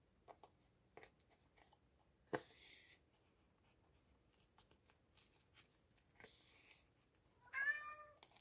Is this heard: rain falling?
no